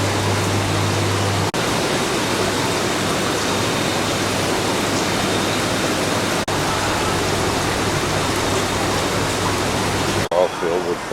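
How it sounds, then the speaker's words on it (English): Decorative water features splashing in Kowloon Park, Hong Kong, a continuous even wash of falling water with a low steady hum beneath it and brief breaks in the sound. "These are nice water features."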